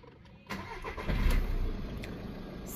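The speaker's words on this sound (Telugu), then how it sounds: "ఒకసారి మనం ఇంజన్ కూడా స్టార్ట్ చేస్తున్నామండి." A 2015 Skoda Rapid 1.5 TDI Elegance Plus diesel with about 60,000 km cranks briefly and fires on the first try, then settles into a steady, close diesel idle.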